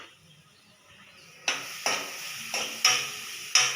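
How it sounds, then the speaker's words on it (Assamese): Leftover grated coconut is turned in a pan after a quiet start, then five sharp, evenly spaced scraping strokes of a utensil against the pan, each fading quickly, with no one speaking. "এতিয়া মোৰ যিখিনি নাৰিকল বাকী ৰৈছিলে সেইখিনি মই ভাজি ল'ম।"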